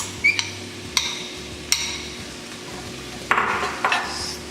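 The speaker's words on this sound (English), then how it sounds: "Now you're going to add in your onion. Just dump all that in there." Chopped onion dumped into melted butter in a sauce pot on medium heat, heard as several sharp metallic clinks and taps of a utensil against the pot, followed by a brief rustling scrape, close and alone.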